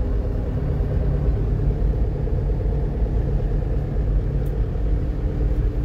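Car driving through a flooded road during a typhoon in Orani, heard as a steady, close engine and road rumble that holds an even level throughout.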